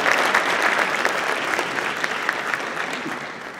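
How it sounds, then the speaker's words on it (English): Steady applause from an audience at a village mayoral forum in Forest Park, a dense wash of clapping that fills the whole stretch at an even, fairly loud level with faint crowd murmur. "Please join me in giving them a round of applause"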